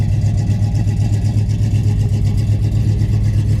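Steady, rumbling idle of a 1970 Pontiac LeMans engine with a throbbing low-end chop, heard close and continuous without talk.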